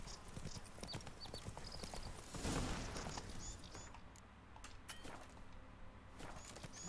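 Geralt's horse Roach clip-clopping in The Witcher 3, a steady run of hoofbeats close by over a soft ambient bed, with a brief rushing swell midway.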